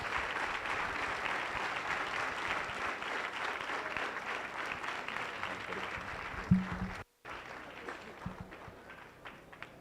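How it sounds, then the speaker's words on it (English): Steady applause from a large crowd at an education and leadership congress fills the whole stretch, with a brief dropout near the end before clapping resumes. "give him a clap as he comes to the stage"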